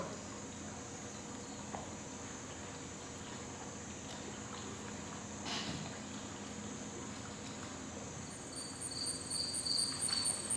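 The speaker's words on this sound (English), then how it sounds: "Just listen to those sounds of the cicadas." Cicadas calling at night, a dense continuous buzzing drone with a high shrill trill that pulses in near the end over faint background hiss.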